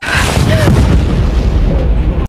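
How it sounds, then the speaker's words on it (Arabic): A grenade blast in the zombie horror film Dead Snow, one loud, sustained booming roar that fills the whole clip and cuts off abruptly. "وسمعت هانا صوت الانفجار"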